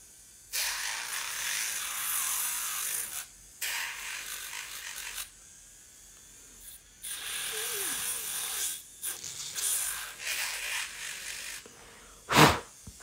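An electric nail file whirs with a high buzzing drone in repeated bursts of a few seconds each, separated by short pauses, close and moderately loud, with a sharp brief noise near the end.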